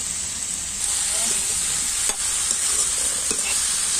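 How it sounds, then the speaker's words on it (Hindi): Mixed vegetables with spinach, fenugreek and coriander are stir-fried in a pan, giving a loud, continuous sizzle with scraping stirs from a spoon and a brief dip in the frying noise partway through. "अब भून लेते हैं"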